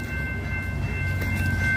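The CP Holiday Train idles at a level crossing in Montréal-Ouest as it stops to let cars through, giving a loud, steady low rumble with a sustained high tone above it and no voices.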